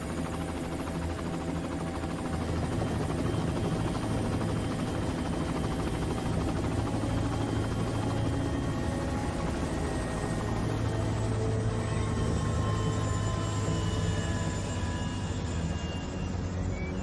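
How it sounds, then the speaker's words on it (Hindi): A helicopter comes in to land, its rotor and turbine a steady, loud drone that holds constant without pause, with no talk over it. "हेलीकॉप्टर नीचे लो।"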